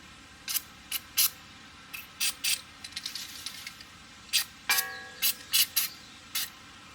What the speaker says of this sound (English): just squirt some WD-40 on there